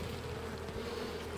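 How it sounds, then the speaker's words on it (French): Honey bees hum steadily over an opened hive frame during a spring inspection of a colony with brood and some honey, a dense, even drone close by with no talk. "Les abeilles sont calmes."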